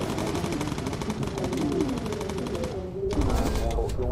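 A bomber gunner's machine gun in Bomber Crew fires steadily and rapidly, close and loud, sustained for several seconds, with a short pause and then more fire.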